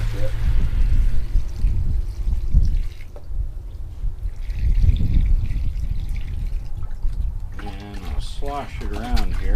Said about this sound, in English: I'm going to pour some of the water off